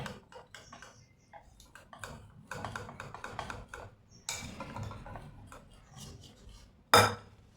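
Egg being mixed with ground pepper and crushed chilli, a utensil tapping and scraping against a bowl in quick irregular clicks, close and fairly quiet, ending with one sharper clink.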